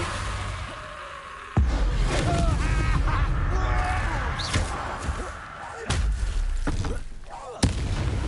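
Hogwarts Legacy combat, with Confringo fire spell explosions landing as sharp, loud booming blasts and impacts at irregular intervals, mixed with game character dialogue and effects.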